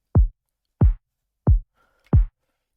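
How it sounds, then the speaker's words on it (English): Kick and snare drum layers run through an Ableton Auto Filter, heard as four evenly spaced, muffled, low-heavy thuds with the highs filtered away, close and punchy, with no voice. "I'm taking the kick and the snare layers, and I'm running them through an auto filter in Ableton"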